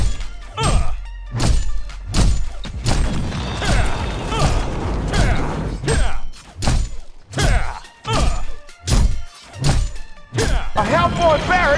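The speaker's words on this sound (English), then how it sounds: "A Hellboy barracks has been destroyed!" Barracks being smashed apart in the video game MVP Arena, a run of heavy repeated thuds and crunching impacts at a steady beat, loud and close, with some game voice layered in.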